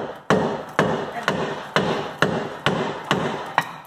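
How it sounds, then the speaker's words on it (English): A hammer drives a flat piece of wood against the bottom of a brake rotor on a 2004 Subaru STI during wheel stud work, eight sharp evenly spaced thuds roughly every half second, close and loud. "Go with it with the hammer"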